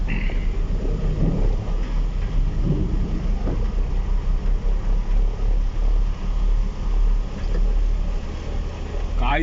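Heavy monsoon downpour and thunderstorm in Devgad, a steady, loud roar of rain with low rumbling underneath, heard close and continuous while voices talk over it.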